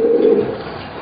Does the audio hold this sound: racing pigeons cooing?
yes